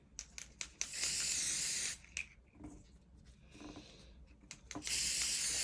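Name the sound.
spraying from an aerosol can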